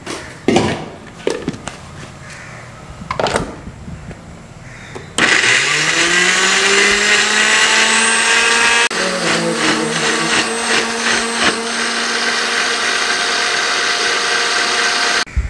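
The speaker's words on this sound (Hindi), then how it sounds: "हल्का सा पानी डाल के इनको ग्राइंड करना है" A mixer grinder whirs up to full speed grinding chopped ginger with a little water, a loud steady motor whine after a few clatters of pieces dropping in, then a shift in tone as the load changes.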